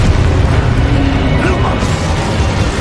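Fire-spell explosion in a fantasy action game, a deep booming burst over dense continuous combat noise, loud and close, with voices around it.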